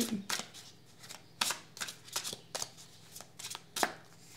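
Tarot cards are shuffled and laid out on a table, a run of quick crisp riffles and soft slaps in an uneven rhythm, close and clear with no talk over them.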